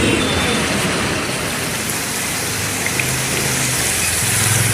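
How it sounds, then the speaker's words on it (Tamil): Heavy rain falls in Pattukkottai, Thanjavur, a loud dense steady hiss of downpour with a faint low engine hum underneath and no talk. "தஞ்சை மாவட்டம் பட்டுக்கோட்டை சுற்றுவட்டார பகுதிகளில் கனமழை வெளுத்து வாங்கியது"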